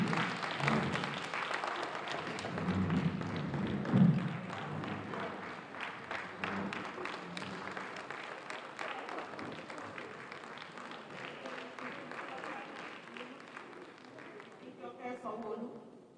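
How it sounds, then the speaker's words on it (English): An audience at a Lagos State government live event breaks into a full round of applause that peaks early, then holds as a sustained, even clatter before thinning near the end, with speech running over it. "Please, another round of applause for her"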